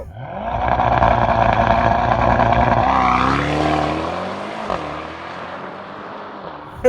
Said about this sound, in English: With launch control that Yuri has not experienced yet.